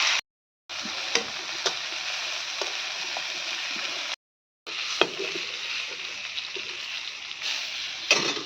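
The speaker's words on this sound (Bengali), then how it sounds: "আর এবার আমি পটলগুলো ভেজে নেব তেলের মধ্যে দিয়ে।" Pointed gourd (potol) pieces frying in hot oil give a steady bright sizzle, with occasional sharp clicks of a utensil stirring them, and two short breaks where the sound cuts out.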